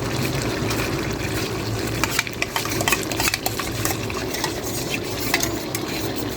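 A spoon stirs and scrapes through yogurt spice mix in a pot of chicken curry, a dense wet churning with scattered clinks of metal and soft sizzling underneath, close and continuous.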